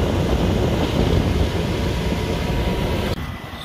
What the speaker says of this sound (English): we're going to inspect the blower motor just to ensure that it is running